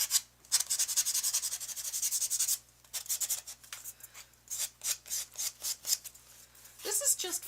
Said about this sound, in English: I'm going to sand a lot of that off because I like it that way.